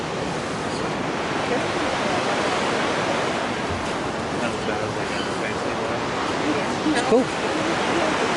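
A waterfall in Ketchikan, Alaska, heard from a boat's top deck as a steady, loud broadband rush of falling water that fills the whole span, with a brief spoken word partway through.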